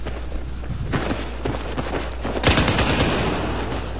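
Rapid gunfire from a weapon in Battlefield 4, dense bursts of shots rattling continuously with a heavier volley toward the end, loud and close, no talking.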